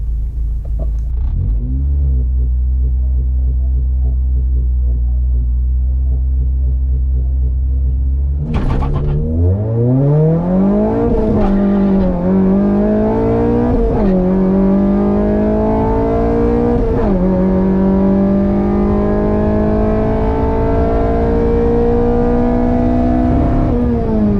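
A K24-swapped Honda Civic launches at a drag strip, its engine rumbling steadily at first, then bogging before revving hard through several rising gear pulls, loud and close with no talk.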